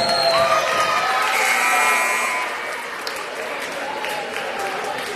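Crowd cheering and applauding for the cheerleaders at a boys' varsity high school basketball game between Scituate and Hanover, a sustained, loud roar of voices and clapping that eases slightly partway through.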